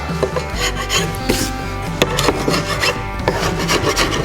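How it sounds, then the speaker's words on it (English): Dried glue squeeze-out being scraped off Accoya wood for a front door surround after unclamping, heard as a steady run of close, rasping scrapes with sharper strokes every half second or so. "Get rid of all these glue snots."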